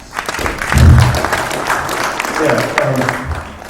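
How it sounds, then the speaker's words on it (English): A conference audience applauds a presenter at a national cybersecurity event, a steady wash of many hands clapping across the room, moderately loud and continuous, with some talk over it. "With a round of applause, please."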